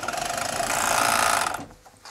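An overlocker serger stitches a seam on a knit vest, a fast, even mechanical chatter running loud and steady for about a second and a half before stopping abruptly, followed by a faint click.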